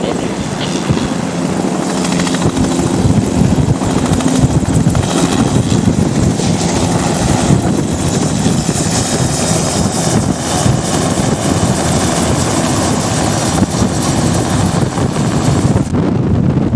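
A Republic aircraft makes a flyby over an offshore ship-to-ship operation, producing a loud continuous roaring engine drone mixed with wind buffeting that swells and fades slightly over the span.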